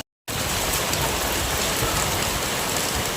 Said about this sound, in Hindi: दिखाती हूँ कितनी तेज बारिश हो रही है।